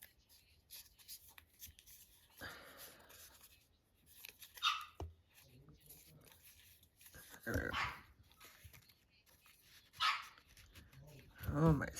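A dog barks in several short bursts spread apart, fairly near, with quiet rustling and shuffling in between and a person speaking.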